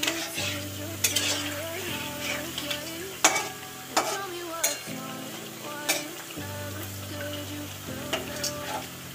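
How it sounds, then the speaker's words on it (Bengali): Pitha rice cakes sizzle steadily in hot oil in a pan while a spatula scrapes and stirs them in repeated knocks, with a faint steady tonal background underneath. "ভাজা চলছে পিঠের"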